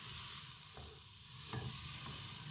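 Meat frying in a karahi as meat-boiling stock is added a little at a time, a steady close sizzle with faint stirring scrapes and a few soft clinks, no voices.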